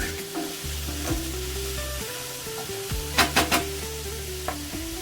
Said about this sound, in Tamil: ஒரு 10 பல் பூண்டு, அது கூடவே 2 மீடியம் சைஸு பெரிய வெங்காயம், இதையும் நம்ம சேர்த்துக்கலாம். இதெல்லாம் சேர்ந்தே வதங்கட்டும்.